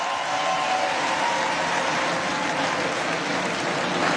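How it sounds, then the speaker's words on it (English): Audience applause at a Republican National Convention on its second day, a dense, steady wash of clapping from a large crowd held at an even level throughout, with no voice on top. "we see some clapping happening"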